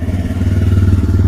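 Steady idling thump of a TVS Raider 125 motorcycle's exhaust, a close, loud, even low pulsing beat with no voices over it.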